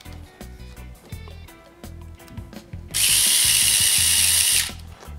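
A Vessel electric screwdriver driving a screw, a rapid close ratcheting clatter that gives way to a loud steady high whine for under two seconds before stopping.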